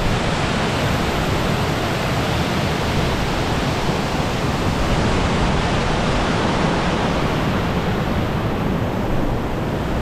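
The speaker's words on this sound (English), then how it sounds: "I'm in Pisgah Forest hiking and I came across this awesome water slide." A waterfall pours down a natural rock water slide in Pisgah Forest, giving a steady, loud broadband rush of falling water that holds constant with no other sounds throughout.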